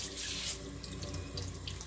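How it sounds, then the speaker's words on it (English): Tap water runs steadily into a sink while a small brush scrubs silks off fresh-picked peaches and cream sweet corn, a close, continuous rushing splash with light scraping bursts mixed in. "I turn the water on about like that"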